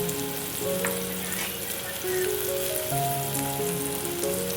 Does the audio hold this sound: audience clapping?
no